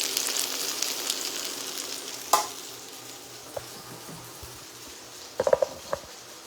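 Vegetable patties fry in a pan with a steady, moderate sizzle, joined by a sharp knock and a few clattering utensil taps as they are handled.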